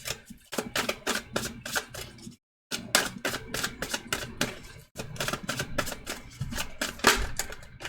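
Tarot cards being shuffled and cut by hand, a rapid run of crisp riffling card clicks close by, broken by two brief pauses, with no talking.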